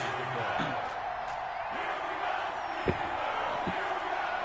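A stadium crowd roars continuously in an EA Sports NFL game before a Philadelphia Eagles versus Pittsburgh Steelers matchup, a broad steady wash with a few thumps and a commentator speaking over it.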